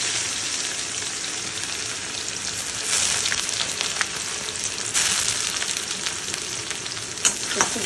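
Nigella seeds and dried chilli frying in hot oil, a loud, dense crackling sizzle close up and continuous, with stirring scrapes and a few sharp pops.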